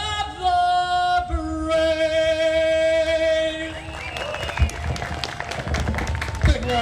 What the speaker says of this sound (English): Big round of applause, Mary Ann Brenner